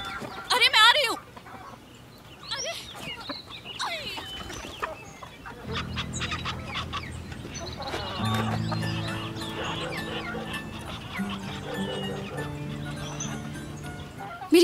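Hen clucks and squawks come up briefly at the start as a runaway chicken is chased, followed by a voice and swelling dubbed film music with other background sounds.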